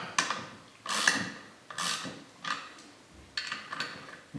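Ratcheting wrench tightening bolts on a Mercruiser Alpha One Gen I boat water pump, several quick bursts of close, crisp clicking separated by short pauses, with no talking.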